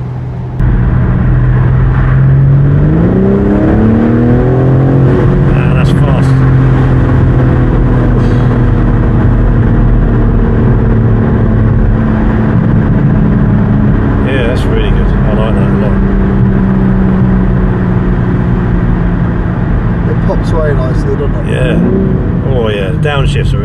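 A 2024 BMW M4 Competition Convertible with xDrive revs and downshifts on a countryside road, the engine note climbing and falling in steady sweeps throughout, loud and close, with speech heard over it.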